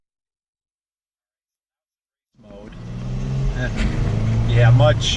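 A Jeep Wrangler JK in race mode with a throttle controller, its engine revving up after silence and growing louder while someone talks over it.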